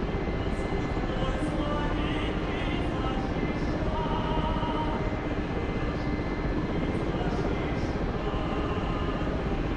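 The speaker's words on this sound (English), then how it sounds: "Another aircraft taking off the jar." Loud, steady roar of an aircraft taking off in a military combat video game, continuous rotor-like engine drone filling the whole stretch with faint higher whines on top and no gaps.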